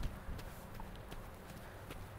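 Hooves of a young horse being schooled over its first jumps, clip-clopping softly at a distance in a low, muffled stretch with no talk.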